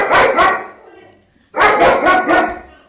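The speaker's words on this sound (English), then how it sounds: "There are dogs outside." Dogs bark outside, loud and close, in two bursts: a pair of barks, a short pause, then a run of four more.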